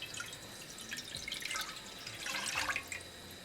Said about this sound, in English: First we're going to add water